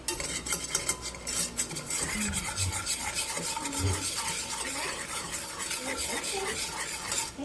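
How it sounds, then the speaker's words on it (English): A whisk scrapes and stirs rhythmically against a pot as a flour roux for enchilada sauce cooks and begins to bubble, a steady close metallic swishing with no talking. "We're gonna whisk this, and we're gonna let this boil for a second"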